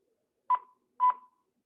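Two short electronic beeps, about half a second apart, from a handheld two-way radio as its channel key lock is toggled on or off; clear and close, with silence around them.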